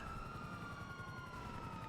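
A police car siren in GTA 5 wails steadily throughout, a sustained electronic tone with bright harmonics over a low rumble, fairly quiet and uninterrupted.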